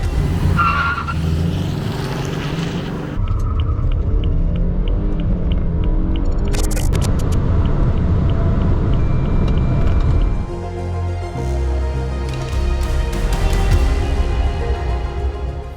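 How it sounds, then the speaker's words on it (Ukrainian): BMW 320i F30 with a tuned two-litre N20B20 twin-scroll turbo engine accelerating hard to 100 km/h, loud close engine roar rising through gear changes with brief shifts and tire noise, no talk. "давайте з'ясуємо, а як швидко ця тачка розганяється до сотні"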